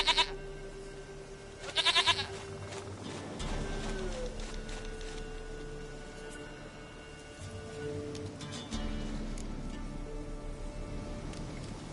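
A goat in The Witcher 3 bleats in short bursts at the start and again near two seconds, set against a steady rain-like game ambience that continues to the end.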